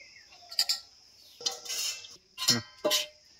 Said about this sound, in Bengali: এরকম করে আমি চিড়েগুলো একটু চেলে নেব।